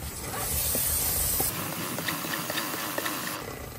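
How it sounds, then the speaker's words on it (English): A continuous spray of motorcycle chain cleaner aerosol hisses steadily, close up, with a brief change in tone midway as the can is moved. "get the chain cleaner and just start spraying away."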